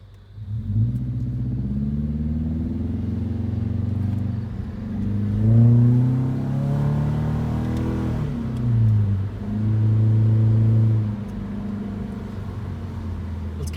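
A 2016 Subaru Impreza 2.0i Limited with 60k miles revs and accelerates hard, its engine rising in pitch through several surges with brief dips between, loud and close from inside the car, with no talking.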